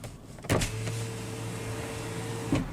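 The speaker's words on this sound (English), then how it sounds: "Now we will go ahead and roll down the driver's window. It is automatic down." The automatic driver's power window of a 2018 Hyundai Santa Fe Sport rolls down with a steady motor whir lasting about two seconds, bracketed by a soft clunk at the start and a thump as it stops.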